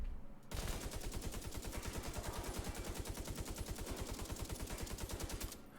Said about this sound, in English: Let's try the Tommy gun.